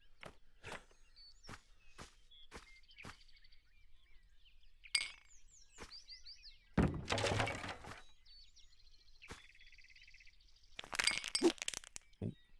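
Rubbish is smashed up during a train station renovation: sharp clinks and knocks of breaking glass and plastic, a few isolated hits, then two longer crashing bursts of debris, close and clear with quiet gaps between.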